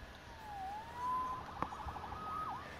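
A wailing police-style siren in a Spider-Man video game rises and falls in smooth pitch sweeps, fairly quiet and alone against a low background hum.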